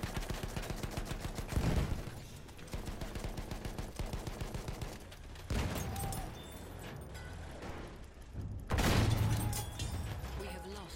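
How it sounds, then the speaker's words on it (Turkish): Rapid automatic gunfire from a Putilov Garford armored vehicle's machine gun in Battlefield 1 on the Sinai Desert map, sustained bursts with distant booms, under game voices and battle noise. "Makine o tüfek."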